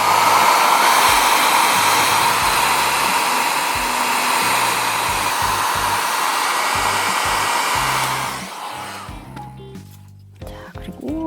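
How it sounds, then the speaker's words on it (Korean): A hair dryer blows steadily and loudly for about eight seconds while drying glue on a handmade smartphone amplifier speaker craft, then cuts off, leaving quiet handling sounds. "일단 끝난 거는 드라이기로 말려줍니다."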